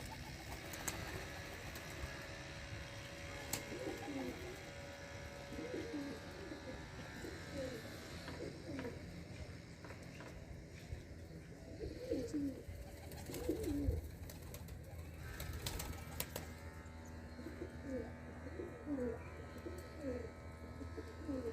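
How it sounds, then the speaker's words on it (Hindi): A pigeon coos softly in repeated low bursts while eating grain against a quiet background, with occasional faint clicks and rustling. "अब आपको दिखाते हैं ये कबूतर दाना किस तरह खाता है"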